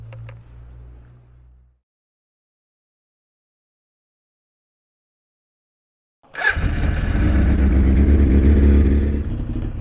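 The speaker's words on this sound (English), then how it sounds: "So let's see a cold start." A Suzuki GSX 750ES motorcycle cold-starts after a few seconds of silence, its engine catching abruptly and settling into a loud, steady idle close by, with no speech.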